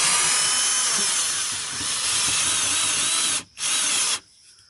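Power drill driving a self-tapping screw into the bumper lip of a 2001 Mazda Miata, a loud, close, continuous whirring grind that briefly cuts out, resumes, then stops abruptly.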